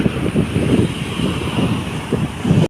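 Wind buffets the microphone in uneven rumbling gusts, with a steady background hiss and no voices.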